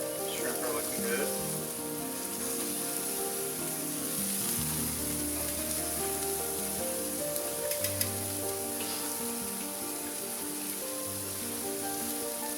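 Shrimp skewers sizzling over the hot center of a grill, a steady close hiss and crackle running throughout beneath soft background music-like tones, with no clear talk.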